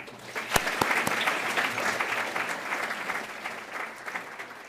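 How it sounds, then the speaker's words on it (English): Audience applause at a City Club speaking event, a steady wash of clapping that builds quickly and holds through, with a few sharper claps near the start, welcoming a speaker to the stage. "please give me a warm City Club welcome to Jeffrey Toobin"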